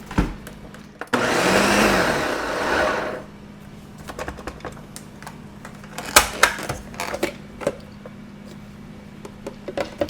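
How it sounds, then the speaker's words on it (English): A kitchen blender whirs loud and close for about two seconds while it purees a chile sauce for pork pozole rojo, then stops, leaving soft clicks, taps and handling noises. "now we're gonna blend it up. Ahí va la licuadora"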